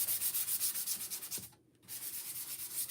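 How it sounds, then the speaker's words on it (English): A painted board is sanded lightly by hand in rapid, even back-and-forth rasping strokes, close and steady, with one short pause partway through before the rubbing resumes. "sand it lightly"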